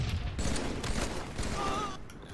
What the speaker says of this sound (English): You're using the assault rifle too much.